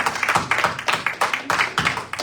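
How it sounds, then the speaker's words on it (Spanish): Several people clap at a family church gathering at home to welcome a guest, a short burst of rhythmic, close handclaps with no talk over it. "Un aplauso a mi hermana."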